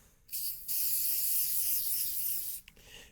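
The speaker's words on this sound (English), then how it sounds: "So we're going to spray a little bit on a rag" Two short hissing bursts of aerosol string lubricant sprayed onto a rag, close by: a quick puff, a pause, then a longer sustained spray before it cuts off.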